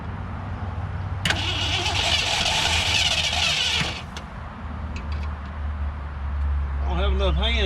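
A 1967 Ford Galaxie 500 V8 with a bent push rod and bad gas catches after cranking and runs roughly, its uneven idle rumbling loudly up close; a person speaks briefly near the end.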